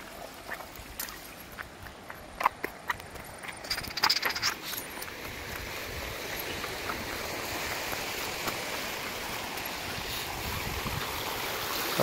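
A hidden waterfall in Maharashtra, thin after little rain, giving a steady broadband rush of falling water that carries on without a break, with a few brief knocks and rustles close by early on.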